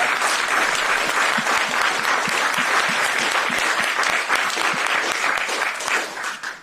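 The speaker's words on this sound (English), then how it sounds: "could we please have one more round of applause here for our panel" An audience at a panel discussion on western Wisconsin applauds, dense sustained clapping from many hands filling the room and tapering off slightly at the end.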